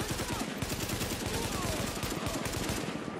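Rapid sustained automatic fire from an AK rifle in The Division, dense overlapping shots rattling continuously at close range.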